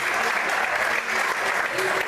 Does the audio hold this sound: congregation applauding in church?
yes